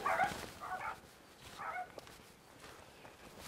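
Dogs bark somewhere off a riverside trail in Mitake Valley, Tokyo. Three short, fairly faint bursts of barking come in the first two seconds, followed by quiet outdoor ambience.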